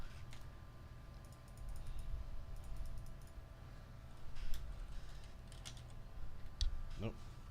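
Keyboard typing during a Tainted Grail gaming session, with scattered clicky keystrokes in short bursts over a steady low background hum, fairly faint and close.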